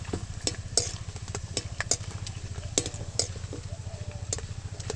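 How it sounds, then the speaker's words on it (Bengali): Papad made from leftover rice fries two at a time in hot oil, puffing up while stirred, a steady close bubbling crackle dotted with sharp clicks of the utensil. "দুটো করে দিচ্ছে তেলের মধ্যে, একটু নাড়াচাড়া করতেই কেমন ফুলে উঠছে"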